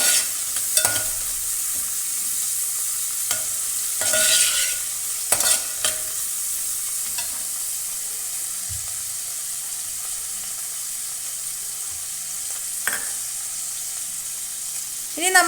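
A tomato and okra curry sizzles steadily in a pan while a utensil stirs and scrapes through it in short bursts, with a soft hiss of frying running throughout.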